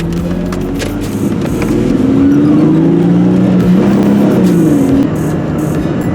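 A 2000 Ford Mustang pulls onto a highway under hard acceleration, its engine loud and close, climbing steadily in pitch with a continuous roar and road rumble and no talking.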